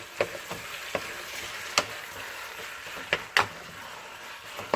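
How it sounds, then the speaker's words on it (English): A spoon stirs Thai yellow chicken curry in a pot, with a string of crisp scraping knocks at irregular intervals over a low, steady background simmer and no talking. "Okay, I'm going to give it a stir."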